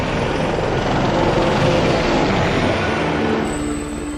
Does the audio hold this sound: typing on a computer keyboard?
no